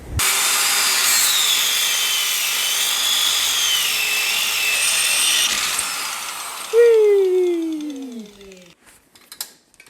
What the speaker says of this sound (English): Okay, angle grinder time again.